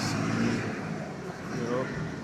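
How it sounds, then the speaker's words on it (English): A city bus rumbles past on a street in Lima's Barranco district, a steady engine drone swelling and easing over the street's background traffic, with a voice talking over it. "That's like a city bus"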